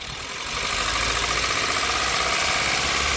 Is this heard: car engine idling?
yes